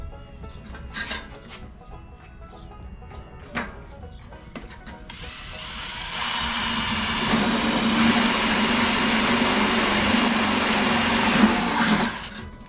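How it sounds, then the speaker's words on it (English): A power drill bores through aluminum during a dry washer modification, with a few clicks and handling knocks first, then a loud, steady whirring grind for several seconds before stopping. "Aluminum's always easy to drill through."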